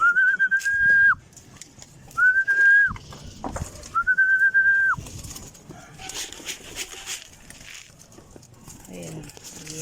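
Pigeons at a loft trapdoor, with three clear whistles (likely a person calling the birds) followed by soft bird sounds, scuffling and light knocks nearby; no talk.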